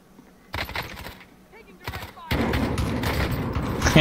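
Shotgun blasts in a video game, several loud booming shots in quick bursts with bright crackling reports, the last stretch dense and continuous as firing overlaps with game noise.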